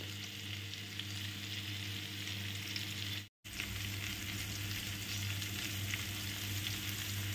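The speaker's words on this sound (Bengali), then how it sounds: "জিরে শুকনো লঙ্কা ফোড়ন দিয়েছি আর একটা তেজপাতা" Cumin seeds, dried red chili and a bay leaf tempering in hot oil: a steady, dense crackling sizzle, close and even, broken by one brief dropout partway through, with no voices.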